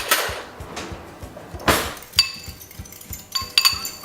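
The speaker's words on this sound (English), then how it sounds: "I'm gonna use a fork to whisk." A fork whisks sweetener into a sauce in a small bowl, giving a quick run of close, rhythmic light taps and clinks of metal against the dish, with a few brighter glassy rings toward the end.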